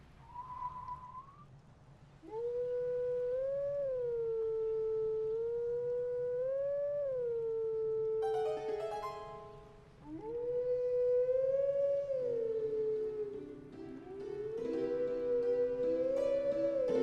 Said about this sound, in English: Playing Zelda's Lullaby.